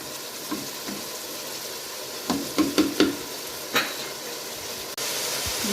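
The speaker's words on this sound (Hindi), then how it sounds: "बस 5 से 7 मिनट इसके मज़ीद भूनूंगी ताकि ये कच्चापन ना रहे" Boiled vegetables and masala fry in a pan for satrangi polao under a low, steady sizzle, with a few scraping stirs and soft knocks of the spoon midway before the hiss continues alone.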